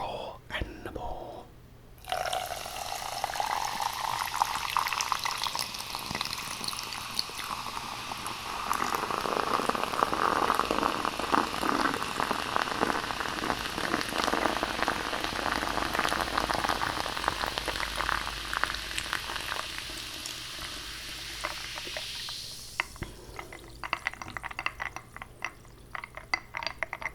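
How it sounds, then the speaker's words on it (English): Very fizzy Sprite pours in a steady close hiss of carbonation that rises and runs for about twenty seconds, then fades into scattered crackling bubbles. "Now this is very, very fizzy Sprite, so this should really make for a good fizzy pour"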